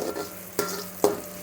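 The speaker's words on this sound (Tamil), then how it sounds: "ஃபஸ்ட்டு இந்த வெங்காயத்தையும் கார்லிக்கும் இந்த மாதிரி போட்டு நம்ம வதக்கிக்கணும்." Onion and garlic sautéing in a pan for veg fried rice, a low sizzle broken by two sharp scrapes of the spatula against the pan.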